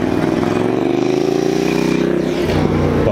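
Motorcycles roll past a Daikoku parking area car meet with loud, close engine revving and a steady rising drone that shifts pitch near the end.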